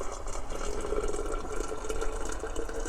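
Hot water from a freshly boiled kettle pouring into a container, a continuous splashing gurgle of liquid at close range, moderately loud and steady for a few seconds.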